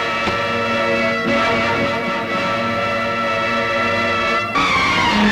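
A car skidding during a chase in a Telugu film, loud sustained tire squeal with a ringing metallic tone, holding steadily with a couple of shifts and no talk.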